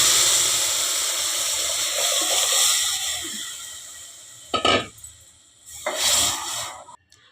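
Rinse water from a mixer jar is poured into a pot of nugge soppina bassaru, a trickling gush that comes in two distinct splashy pours after quieter background noise.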